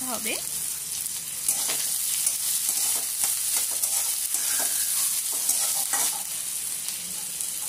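Peppercorns, six or seven garlic cloves and a chopped medium onion frying lightly in a pan, a steady close sizzle with repeated spatula scrapes and stirs, and a brief spoken word early on.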